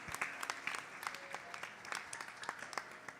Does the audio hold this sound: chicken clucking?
no